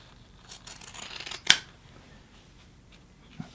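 Scissors snip through pool table cloth to trim the excess into a tab, a few quiet rustling cuts followed by one sharp close snip, with soft handling noise afterward.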